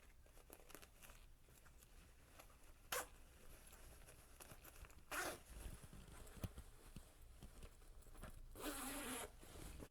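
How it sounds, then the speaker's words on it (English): A zipper on a sewn peplum top is pulled, with a few sharp zipping bursts spread among soft fabric rustling and handling noises, close and fairly quiet, with no voices. "So I'll just zip it up here."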